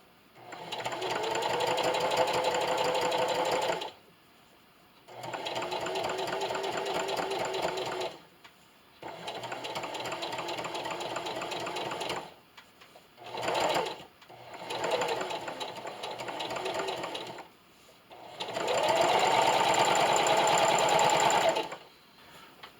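A sewing machine stitches a baby bib, slowing around the neck curve: five long bursts of steady motor whir and needle clatter separated by short pauses, with one brief stutter of quick starts near the middle, and no talking.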